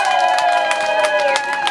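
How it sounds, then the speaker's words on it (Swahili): Crowd clapping at a political campaign rally in Songwe region, a steady patter of hands over a sustained tonal background, fairly loud throughout. "Wapigieni makofi."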